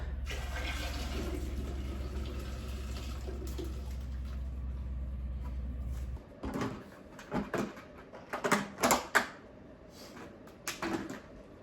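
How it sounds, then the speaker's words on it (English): A mixture dumped into a household toilet: a steady gushing pour that stops abruptly, followed by scattered splashes, knocks and small clatters nearby. "And just dump it out in the toilet."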